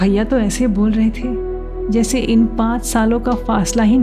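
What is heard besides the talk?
No distinct noise like a dog, phone or traffic.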